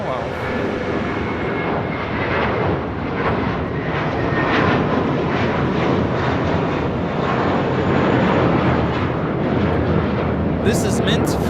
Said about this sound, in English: taking off to West Palm Beach, the 7-year-old A321, JetBlue Airways 2524